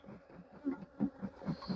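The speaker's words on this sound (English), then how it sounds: "So as you can see, the bees are not happy. They're quite angry." Angry honeybees buzz around an opened, queenless hive, their faint, close whines rising and falling as individual bees pass near.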